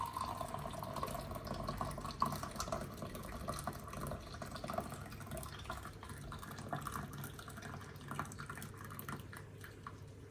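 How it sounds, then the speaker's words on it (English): Liquid is poured into a cup while prawn pasta is cooked, a faint, steady trickling and splashing that runs for several seconds, quiet and close with no talk over it. "Just pour that right into the cup."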